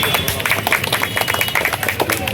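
An audience applauds at an 80th birthday celebration in Guruvayur, dense clapping from a crowd heard close and fairly loud, with voices mixed in.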